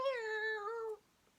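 A single drawn-out meow voiced by a person imitating a cat, clear and close, gliding slightly downward before cutting off into quiet.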